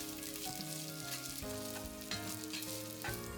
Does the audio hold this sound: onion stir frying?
yes